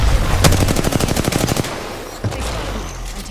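Automatic weapon fire in Apex Legends: a fast, evenly spaced burst of loud close shots lasting about a second, followed by a single later report over steady game ambience.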